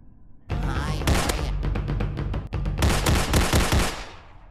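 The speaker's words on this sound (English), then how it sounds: "I'm running out of bullets here." Automatic gunfire from a SpongeBob video game rattles in two long, loud bursts of rapid shots split by a brief gap, close and harsh with nothing else over it.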